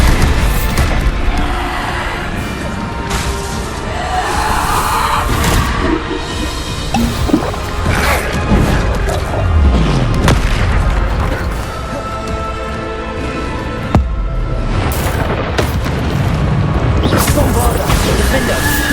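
Bombarda spell explosions in the Hogwarts Legacy video game burst amid a dense, loud mix of magical combat impacts, crashes and whooshes, with repeated booms layered over game music.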